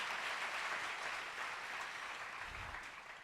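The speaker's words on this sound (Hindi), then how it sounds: "आपने ताली बजा दी, आपका धन्यवाद है" An audience claps steadily throughout a spiritual talk at Shantikunj, Haridwar, with dense, continuous applause at even loudness that tapers off slightly near the end.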